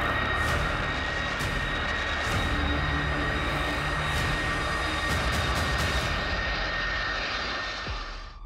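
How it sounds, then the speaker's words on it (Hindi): Air Force One, the US presidential plane, roars with a loud, steady jet engine rumble and whine that holds for several seconds before easing slightly at the end. "ये है दुनिया के सबसे शक्तिशाली शख्सियत का सबसे बलशाली विमान। नाम है एयरफोर्स 1।"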